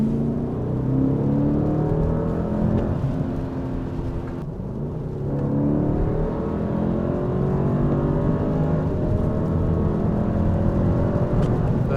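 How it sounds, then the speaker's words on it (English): A 2026 Mercedes GLS 580 driving at night in sport mode with its exhaust valves open gives a loud, continuous deep drone whose tones rise and fall as it pulls. No one speaks over it. "Yes, the exhaust valves open more, and there you notice the AMG DNA."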